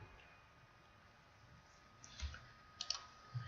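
A computer mouse clicks once or twice near the end, faint and sharp over a quiet room hum, with nothing else happening.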